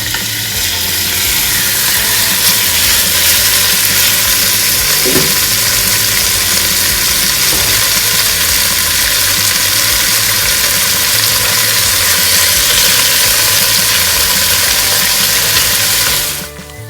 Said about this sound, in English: When you hear that sizzle, you know it's ready.